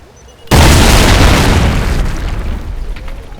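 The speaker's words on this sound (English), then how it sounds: "I was killed by an IED." An IED explosion in Call of Duty: Ghosts erupts suddenly and loud, then a dense roaring blast tail that slowly fades over a few seconds.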